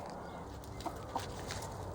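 Hens pecking at a heap of artichoke leaves in a December kitchen garden, soft low clucks with a couple of brief higher calls, faint and close amid quiet outdoor background.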